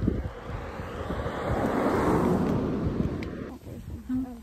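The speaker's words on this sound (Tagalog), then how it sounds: "Lakas na naman ng hangin." Strong wind buffets the microphone in loud, rumbling gusts that swell and ease, with surf washing faintly in the background.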